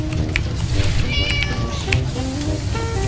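A cat meows repeatedly during a firefighting level of the game Flame Over, its cries rising over a dense, constant roar of fire and noise, fairly loud and close.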